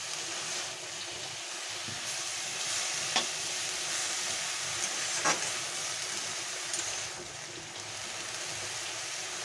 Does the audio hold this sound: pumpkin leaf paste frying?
yes